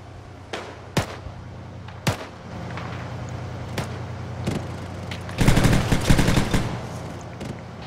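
Heavy machine gun fire in the ArmA military simulation game, heard as several sharp separate shots followed by a louder, denser burst of sustained fire near the end, over steady background rumble.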